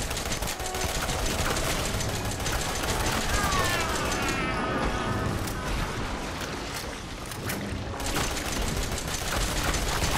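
Rapid gunfire aimed at an enemy in the horror game Resident Evil 7 keeps up a dense, loud, continuous barrage for the whole stretch, with a brief thinner patch partway through.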